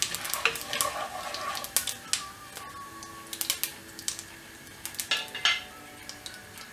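Cumin seeds frying in oil for a Tamil brinjal, drumstick and cowpea poriyal: a soft crackling sizzle with scattered sharp pops and spoon clinks against the pan, close and fairly quiet, with no voices.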